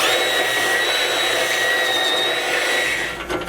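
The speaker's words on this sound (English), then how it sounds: "Best thing to do is to use a grinding bit like this." A high-pitched rotary grinding bit whines steadily as it enlarges a bolt hole in the frame of a 2019 Ford Explorer, loud and close, tapering off at the end.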